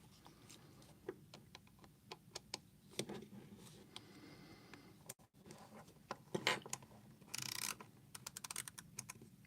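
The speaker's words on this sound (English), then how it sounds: "Need another screwdriver here." Small metal clicks and taps of a screwdriver working on a Leatherman Surge multitool while a package opener is fitted, a close run of irregular ticks and brief scrapes with short pauses.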